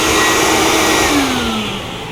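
A vacuum cleaner hooked to a soda blast cabinet runs steadily, with a loud close whine and rushing airflow whose pitch dips slightly near the end. No voices are heard.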